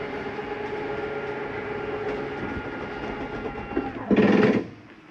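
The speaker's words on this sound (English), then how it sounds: "Wanted you to hear that noise. That noise is not your slide mechanism grinding on anything." Slide-out mechanism of a Forest River Salem 26DBUD travel trailer reaching full retraction, a steady mechanical motor drone that ends in a louder, harsher grinding burst for about half a second before cutting off.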